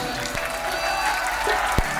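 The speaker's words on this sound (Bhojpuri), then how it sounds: "जे अपना माई से प्रेम करो तो मीठा मीठा ताली बजा दो मीठा" An audience claps in a dense, even patter at a Singhashini Mahotsav stage show with a folk singer. It sounds fairly close and continues steadily for a couple of seconds with no speech over it.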